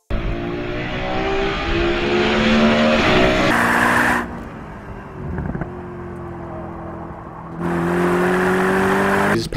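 A Mercedes-Benz SLS AMG Black Series with a naturally aspirated 6.2-litre AMG V8 roars loudly and close, holding a strong rev, dropping to a lower drone, then surging again near the end.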